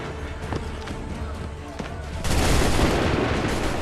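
A musket volley from Assassin's Creed III erupts partway through as a sudden, loud burst of many shots at once, then a rolling roar of gunfire that follows after a busy stretch of battle noise.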